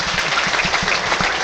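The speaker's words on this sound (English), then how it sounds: "please join us in a minute's applause to remember the life of our former manager" A packed stadium crowd claps steadily through a minute's applause for former Crawley Town manager Dermot Drummond at an FA Cup tie against Lincoln City, a dense, continuous wash of hand claps with no voices standing out.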